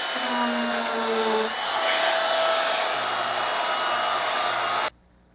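A ring made from a Morgan silver dollar is buffed with white buffing rouge under a loud, steady, whining motor that runs close and alone for about five seconds, then cuts off abruptly.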